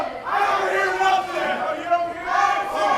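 A live indie wrestling crowd reacts around the ring, a surging mass of shouting and chanting voices that swells and dips in waves, fairly close and loud throughout.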